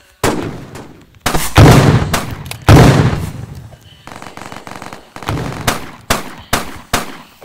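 Video game shooter gunfire with a shotgun: a rapid run of loud, sharp shots in uneven bursts, some close and booming, others lighter, continuing across the whole stretch with no talking.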